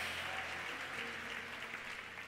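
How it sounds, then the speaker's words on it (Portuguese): A church congregation applauding during a sermon, a steady, moderately distant patter of many hands clapping that fills the whole short stretch and fades only slightly at the end. "dê uma salva de palmas ao Senhor"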